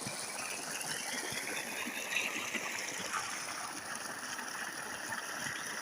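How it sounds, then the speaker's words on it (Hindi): Water gushes out from a submersible motor pump in a continuous, even rush, a steady hissing splash with no breaks and no voices over it. "पानी माशाल्लाह कितना अच्छी तरीके से निकल रहा है"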